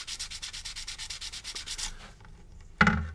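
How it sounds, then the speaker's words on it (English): Rhythmic rubbing strokes of micro mesh sanding pads polishing a plastic part on a 1/32 scale Special Hobby Tempest Mk V model kit, close and steady for about two seconds, then quieter scratching and a sharp knock near the end. "So I'll just polish these in with varying grades of micro mesh"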